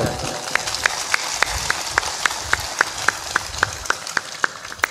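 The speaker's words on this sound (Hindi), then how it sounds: "जोरदार ताली बजाएं" An audience at a Hindi spiritual discourse on love claps in a steady, evenly spaced rhythm, sharp hand claps repeating at a regular pace over a low murmur.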